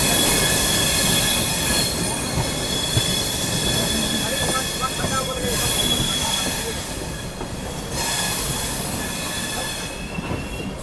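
A Rajdhani Express hauled by a Malda shed ALCO WDM 3D diesel locomotive rolls along with loud, continuous wheel squeal and rail rumble, heard from on board the train, with no speech.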